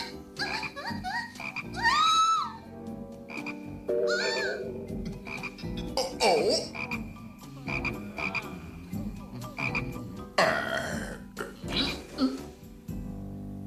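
Toads croak in a cartoon Bible story of Moses, with many overlapping croaks, loud and close, in a dense chorus that runs throughout.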